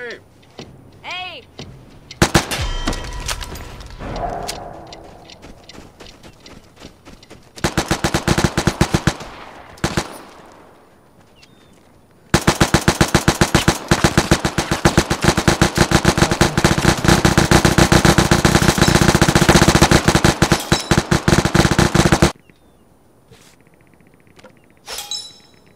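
Automatic gunfire in the game Vigor, loud sustained bursts of rapid shots separated by brief pauses, with scattered single shots and clatter at the start.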